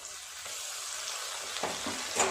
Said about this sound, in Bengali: খুব ভালো করে সমস্ত কিছু একটু নেড়ে চেড়ে ভেজে নেব।